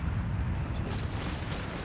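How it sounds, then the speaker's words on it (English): Explosion of a destroyed vehicle in Company of Heroes 3 during a 4v4 match, a continuous low rumbling boom with dense battle noise, loud and steady throughout. "Didn't lose a single model in that vehicle explosion."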